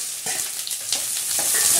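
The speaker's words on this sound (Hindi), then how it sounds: "और आ देखो तेल हो गया गर्म, तो उस तो बाद आप पा देने दे कटे हुए प्याज" Chopped onions dropped into hot oil fry with a loud, close, continuous sizzle and crackle, brief stir sounds on top, no talking.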